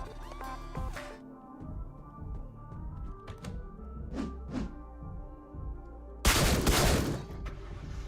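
Blunderbuss gunfire in the video game Deadbolt, a few scattered sharp thumps and cracks amid quiet game ambience, ending in a sudden louder burst of blast noise near the end.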